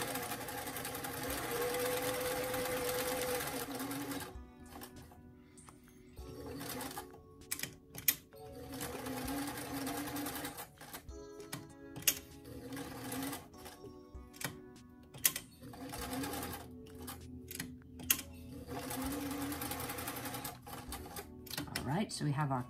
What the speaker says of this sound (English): you can pick up your sewing machine foot as you're doing a nice smooth collar and kind of ease it around